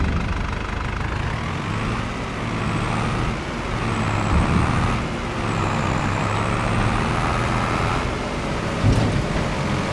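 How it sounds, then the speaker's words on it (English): A tractor in Farming Simulator 22 runs with a steady, loud low engine drone that holds throughout, with faint whining tones above it and a brief hiss near the end, with no talk. "yeah, I do like this tractor. It's cool."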